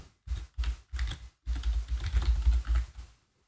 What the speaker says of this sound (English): Let me start by typing just a simple website over here